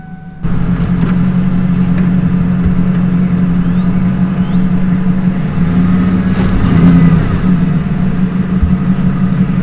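A car engine holds a loud, steady drone while its tires spin, with a slight swell in revving near the end and no talk over it.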